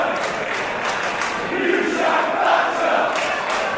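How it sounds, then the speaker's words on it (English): A Newcastle wrestling crowd voices loud, sustained disapproval of a wrestler, a dense mass of jeering and shouting that swells slightly midway and continues without a break. "Williams not being favourably received by this Newcastle crowd"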